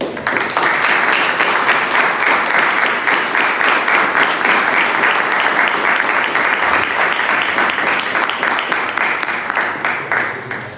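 Loud, sustained applause from a congregation gathered for a talk by a priest, a thick continuous wash of clapping hands lasting the whole stretch.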